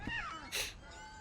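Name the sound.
cat meowing in video game What Remains of Edith Finch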